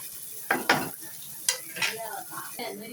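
Spices frying in a pan with browned onions, stirred with a few sharp scraping strokes of a spoon over a soft sizzle, close up and without speech.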